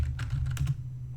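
Rapid typing on a computer keyboard, entering a sudo apt update command on a Debian Linux system: a quick run of close, crisp key clicks for about a second over a steady low hum, then the keystrokes stop.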